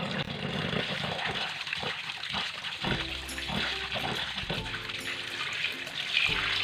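Raw mutton rubbed and rinsed by hand under running water, a close, steady splash and trickle with intermittent squelching handling noises.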